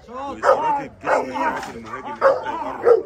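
A dog barks and yips in short repeated bursts during personal protection training, loud and close, with brief whimpering tones between the barks and someone talking over them.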